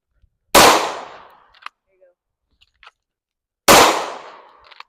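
Two loud, sharp Glock pistol shots fired a few seconds apart, each with a long decaying echo, followed by faint clinks and handling noises in between.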